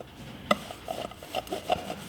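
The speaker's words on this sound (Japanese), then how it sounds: "バリ取り手作りなんですけどね、これドリルに手を溶接してるだけなの" A homemade deburring tool, a drill with a welded-on part, scrapes burrs off a hand-hammered metal yukihira pan, giving a few short, faint rasping scrapes with small pauses between them.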